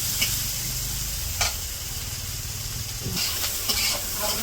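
Onions and green chilies with potatoes sizzle steadily in hot oil, with a few scrapes of a utensil stirring the pan.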